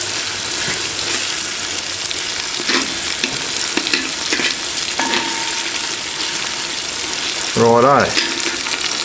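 Garlic and onions fry in a South African potjie pot, a steady sizzle with scraping stirring strokes throughout, ending in a brief louder rattling scrape; someone says a single word.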